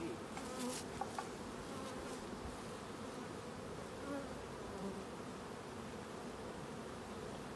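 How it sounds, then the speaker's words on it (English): Honey bees swarm and buzz continuously around a hive box being smoked on a honey bee farm in Jamaica, a dense steady drone close to the microphone with no talk. "these are the bees, man"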